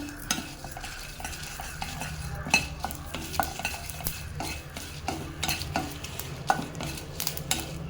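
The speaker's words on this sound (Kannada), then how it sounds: "6 ಒಣಮೆಣಸಿಕಾಯಿನ ಚೆನ್ನಾಗಿ ಹುರ್ಕೋಬೇಕು." Red chillies, cumin, pepper and curry leaves dry-roasting in a pan, a soft sizzle under repeated scraping and stirring clicks of a spoon against the metal, close and steady.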